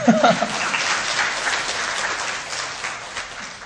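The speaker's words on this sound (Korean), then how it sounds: "박수 쳐주시면 감사하겠습니다" An audience at a software quality seminar applauds a speaker, a warm, continuous clatter of many hands, strongest at the start and gradually easing, with a brief voice at the very beginning.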